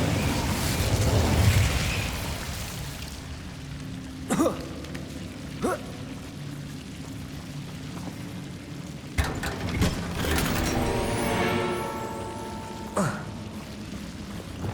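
A spell whooshes and bursts in Hogwarts Legacy as the Incendio fire charm is cast, with a few sharp magical impacts and crackling flares over low ambient rumble and a player talking.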